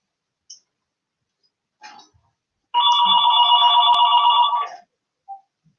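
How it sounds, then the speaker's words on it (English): A telephone bell rings once in a sustained burst of about two seconds, loud and close, with a few faint clicks before and after and no talking. "That crazy phone's ringing."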